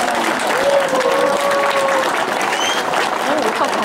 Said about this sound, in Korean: 큰 박수로 두 신랑 신부의 혼례 성사를 축하해 주시기 바랍니다.